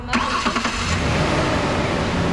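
A Ford Ranger truck engine cranks briefly with a few starter bursts, then catches and runs as a loud, steady mid-pitched rumble close by, with a 1980s–1990s Ford under repair for cooling problems.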